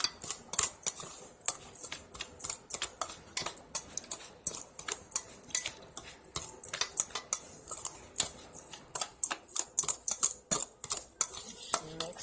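Bath bomb ingredients are mixed by hand in a bowl, producing rapid, close clicking and scraping strokes in an uneven rhythm throughout, with no talking.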